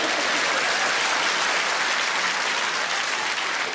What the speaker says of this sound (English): Yeah, you're all clapping.